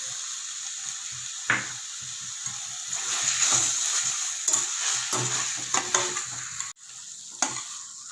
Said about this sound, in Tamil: இப்போ பாருங்கள், ஒரு 5 நிமிஷம் வதக்கணும்.